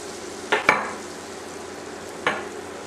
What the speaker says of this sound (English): Stir until the rice and beans are well blended